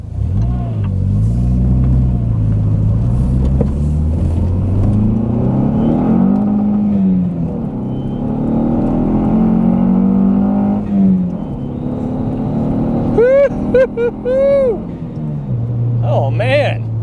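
Dodge SRT4 engine revving and accelerating hard, loud and close, with rising and falling pitch sweeps through the gears and a couple of brief squeals near the end.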